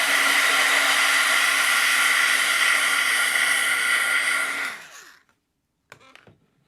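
A heat tool blows steadily and loudly on a watercolor painting for about four and a half seconds, then winds down and cuts off, followed by a couple of faint clicks.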